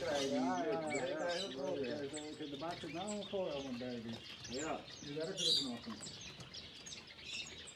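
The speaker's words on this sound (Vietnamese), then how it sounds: "Đây là chim cảnh mình rất là thích hai con này, giống như là hai con két vậy đó cả nhà" Ornamental parrot-like birds in a bird shop in the Netherlands chirp in light, scattered tweets, mostly behind someone speaking close up.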